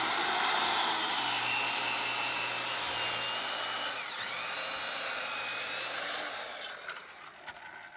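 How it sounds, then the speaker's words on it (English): A power drill drives structural screws into the wood framing of a shed roof overhang, a loud steady high-pitched whine that dips briefly in pitch as it loads up, then cuts out near the end. "we need to screw some more Structural screws."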